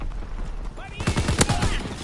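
Gunfire bursts from a shotgun fight in the video game Fortnite, a cluster of loud, close shots in quick succession over a busy game background.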